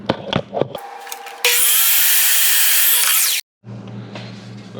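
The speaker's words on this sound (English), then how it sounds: "So I need a 2x4 that's cut to the same width as the board." A saw rips through a 2x4 board in one loud, sustained burst of about two seconds, coming after a few short knocks and clatters and ending in a sudden stop, with quieter shop noise afterward.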